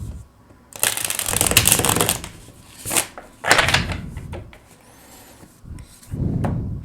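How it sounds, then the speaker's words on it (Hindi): Tarot cards are shuffled by hand in several riffling and sliding bursts of papery rustle, close and fairly loud, with short pauses and soft taps between the bursts. "एक और शफल कर लेते हैं।"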